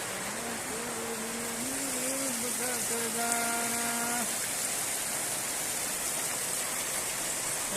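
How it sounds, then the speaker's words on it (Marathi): Heavy rain roars steadily throughout, with a person's voice speaking briefly over it near the start before the downpour continues alone. "लय पाऊस पडायला बा बरा"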